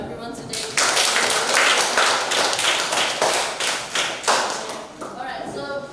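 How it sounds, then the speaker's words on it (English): A class of students applauding after a lesson, a burst of close, fairly loud clapping lasting several seconds with voices mixed in, then tapering off. "So please give applause to everyone today."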